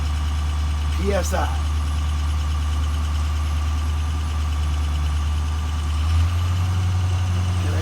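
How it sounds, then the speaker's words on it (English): A truck engine idles steadily in the cab, a low constant rumble building air pressure for a brake test, with brief talk over it and a slight change in tone near the end. "Now I start the engine."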